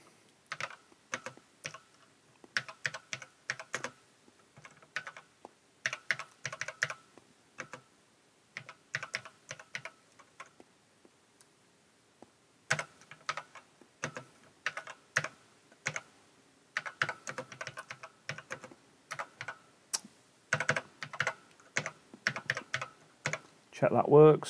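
Keys clatter on an Acorn Electron home computer keyboard as a short program is typed in, bursts of quick close taps broken by brief pauses.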